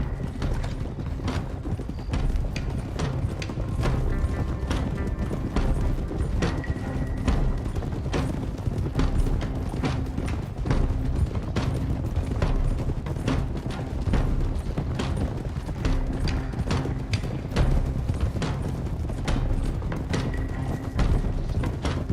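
Horses gallop in Red Dead Redemption 2, their hooves clip-clopping in a steady, busy rhythm throughout, mixed with rattling tack and mechanical clatter, loud and continuous with no voices.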